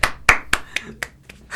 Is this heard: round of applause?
yes